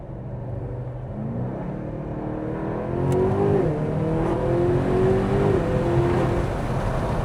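A car with a V8 engine driving with paddle shifters, its deep engine drone rising steadily as it accelerates and climbing in pitch through a gear change, heard loud and continuous from inside the cabin without talk.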